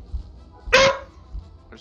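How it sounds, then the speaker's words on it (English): A dog gives a single loud, sharp bark close by, followed by a quieter short yip, with a faint murmur of room noise around it. "what did I just tell you about barking at me?"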